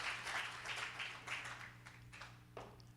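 Faint applause from a church congregation during a Spanish-language sermon, soft and distant over a low steady hum, with a few sharper claps toward the end.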